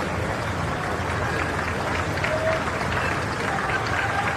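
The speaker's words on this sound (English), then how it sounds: "the crowd giving them a nice round of applause as they come by here" Spectators at Henley Royal Regatta 2017 applaud rowers in a doubles race as they pass, a steady, dense wash of clapping and crowd noise that holds at an even level throughout.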